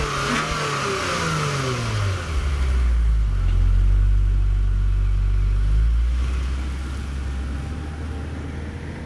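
A 2021 Lexus IS 350 F Sport pulls away on the road, its engine rising through a loud revving climb, holding a deep steady drone, then easing back to a lower cruising rumble.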